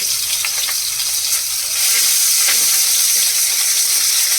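Green chilies, garlic and curry leaves fry in hot oil with a steady, close sizzle that swells louder about halfway through and carries on without any talk.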